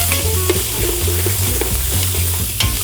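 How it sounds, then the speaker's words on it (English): Vegetables sizzle in a pan over a campsite stove, cooking down for a Cajun seafood boil. The frying is loud and steady and close up, with a few stirring scrapes and no talk. "Now we just need to cook this until it's nice and caramel and the veggies are a little bit soft."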